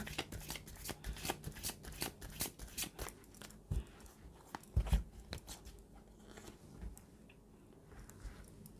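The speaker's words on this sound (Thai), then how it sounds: "อาจารย์ขออนุญาตสับไพ่เปิดดวงท่านก่อนนะคะ" A deck of tarot cards is shuffled close up, giving a fast papery riffling and slapping that runs throughout at a soft level and thins out slightly toward the end.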